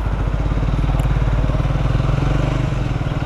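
A Triumph Speed 400 motorcycle engine runs close by, a loud, even thumping rumble that holds steady throughout.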